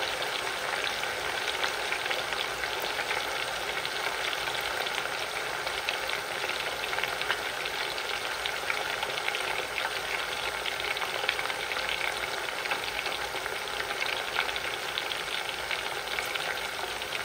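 Pork fries in darkened oil, giving a continuous even sizzle and crackle that holds steady throughout, close and fairly quiet, with no voices.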